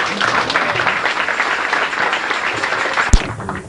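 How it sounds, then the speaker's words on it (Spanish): Loud, sustained audience applause fills a Peruvian Pentecostal church service in welcome of the national church president, dense clapping throughout before a sharp thump near the end as it fades. "Lo recibimos con un fuerte aplauso"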